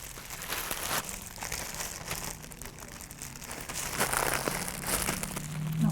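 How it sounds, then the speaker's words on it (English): A plastic bag crinkles and crackles continuously up close as freshly tie-dyed fabric is stuffed inside to set. "I'm going to put this in a plastic bag and let it set up."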